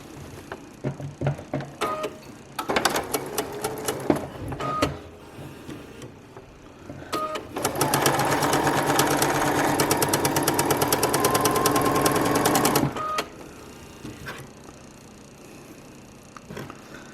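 Sewing machine joining quilt fabric sets for a Dresden plate table runner: short stop-start stitching bursts first, then a steady, loud run of rapid stitching lasting several seconds before falling quiet.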